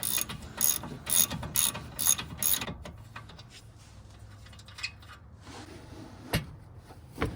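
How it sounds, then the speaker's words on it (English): Ratchet wrench loosening the castle nut on a 2009 Toyota RAV4 tie rod end, a burst of rapid close clicking strokes for about three seconds, then quieter scattered metal clicks and a sharp clank. "Loosen the castle nut back out."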